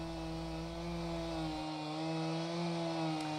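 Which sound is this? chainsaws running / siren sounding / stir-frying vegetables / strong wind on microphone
chainsaws running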